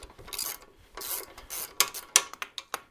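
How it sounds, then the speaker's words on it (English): A ratcheting wrench on a 1/2-inch drive loosens the fender bolts of a Harley-Davidson Sportster, giving a close, dry rasping ratchet that runs in bursts and ends in a string of sharp, separate clicks. "Then a 1/2-inch drive wrench on the back, a ratcheting wrench"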